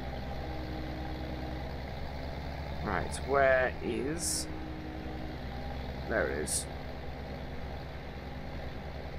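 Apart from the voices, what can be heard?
tractor engine in Farming Simulator 17 video game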